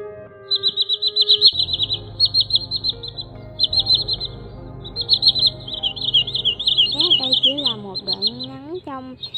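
A recorded call of the common greenshank, played for bird trapping, gives repeated high piping notes in rhythmic bursts over a low hum, with rising sweeping whistles toward the end.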